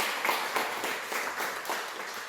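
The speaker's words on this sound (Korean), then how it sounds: "우리의 박수로." A church congregation gathered for a Wednesday worship service claps in a quick, rhythmic patter, heard fairly faint and somewhat distant, like brisk unison clapping in a hall.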